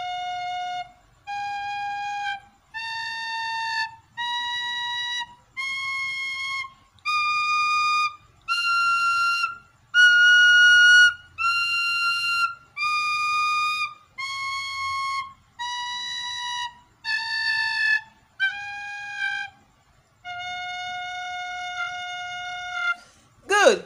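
A tin whistle plays a scale of clear, separate, sustained notes, climbing step by step and then descending again, each note bright and close with short gaps between them.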